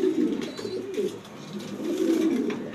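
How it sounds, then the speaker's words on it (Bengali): Pet pigeons kept by a fancier give soft, low, repeated coos in two close bursts separated by a short pause, near and clear with no talking. "এই যে 12 বছর ধরে কবুতর পালতেছি"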